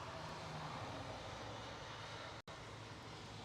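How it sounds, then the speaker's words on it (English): A Virgin Atlantic Boeing 787 arriving at London Heathrow produces a steady, broad engine roar that holds at a constant level and is heard at a distance, broken by a brief dropout near the end. "Well, the Virgin Atlantic 787 is arriving."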